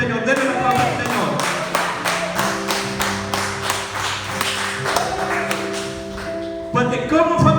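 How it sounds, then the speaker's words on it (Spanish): A church congregation breaks into applause, a dense wash of clapping sustained for several seconds with steady sustained music tones underneath, swelling again near the end. "Denle la aplauso al Señor, denle la aplauso al Señor."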